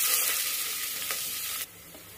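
Finely chopped onions and green chillies frying in hot oil for a chicken gravy, giving a steady broadband sizzle close by that drops abruptly near the end, with faint scraping stirs.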